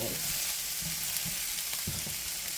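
Chopped onion fries in a pan with a loud, dense, continuous sizzle, broken by a few soft scraping stirs.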